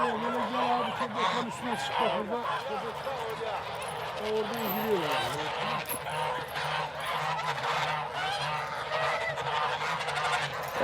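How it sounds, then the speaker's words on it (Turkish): A flock of geese returning at night honks constantly and loudly nearby, calls overlapping in a busy, unbroken chorus. "sabah saat 5'te otlamaya çıkan kazlar gecenin bu vaktinde geri geldiler"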